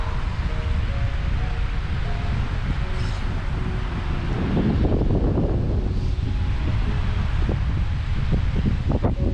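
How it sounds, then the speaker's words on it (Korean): A strong wind blows without a break in a Canadian desert in early spring, roaring hard against the microphone and rustling nearby, loud from start to end. "바람 엄청 많이 부네"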